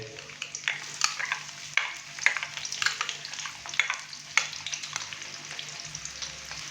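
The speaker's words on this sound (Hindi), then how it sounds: "प्याज को हम लाइट ब्राउन करेंगे, तकरीबन 5 से 6 मिनट के लिए हमने प्याज को फ्राई करना है" Finely chopped onions fry in hot oil in a pan for beef masala curry, crackling and sizzling up close while a spoon stirs and scrapes in irregular bursts.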